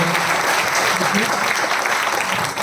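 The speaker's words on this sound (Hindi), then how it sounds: "उनके लिए मैं चाहूँगा एक बार जोरदार ताली हो जाए" Loud applause fills a hotel banquet hall at a business leadership event, a thick, continuous roar of clapping from a large audience that stays strong throughout with faint crowd murmur beneath.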